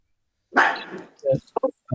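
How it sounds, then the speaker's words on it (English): A dog lets out a loud, close bark followed by shorter yips and whimpers, mixed in with people talking. "The dog's not happy."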